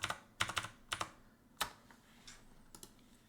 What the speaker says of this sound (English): And then we'll type the same thing again. Enter our passphrase we set earlier.